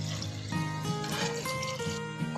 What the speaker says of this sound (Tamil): தேவையான அளவு தண்ணி சேர்த்துக்கோங்க.